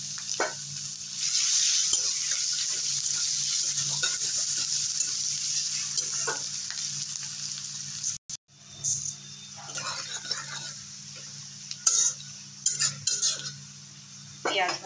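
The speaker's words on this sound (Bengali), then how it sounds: "দিয়ে দেবো পেঁয়াজ কুচি।" Chopped onions hit hot, darkened oil in a kitchen pan and sizzle steadily and loudly, with a spatula stirring and scraping and metal utensils clinking now and then.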